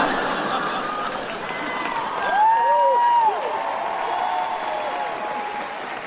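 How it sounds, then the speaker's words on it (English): Stand-up comedy audience applauding after a joke, steady clapping with murmuring crowd noise, one brief whistle-like tone rising above it midway. "Thank you for clapping."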